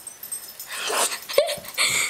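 Dogs breathing and whimpering close by, a few wheezy sniffs and huffs followed by a short high whine, with brief quiet gaps between the sounds.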